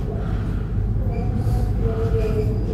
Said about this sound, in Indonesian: Sebelah ini kereta apa nih? Merbabu kayaknya.